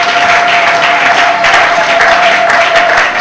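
Steady, dense applause from a church congregation during a worship service, loud and continuous for a few seconds with a faint tone humming underneath.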